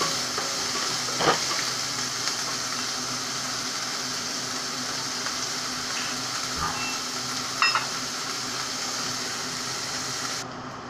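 Chopped onions fry in a pan, a steady close sizzle running throughout with a few faint clinks and stirring knocks, no voices.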